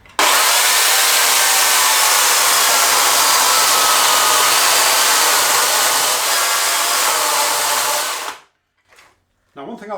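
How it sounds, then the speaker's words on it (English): A Makita UC3041A 12-inch corded electric chainsaw rips through wood along the grain with a loud, sustained whining cut lasting about eight seconds, then it stops abruptly, leaving brief faint noises. "So the next thing I'm going to demonstrate is rip cutting."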